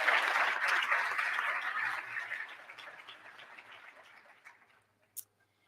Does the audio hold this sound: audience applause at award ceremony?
yes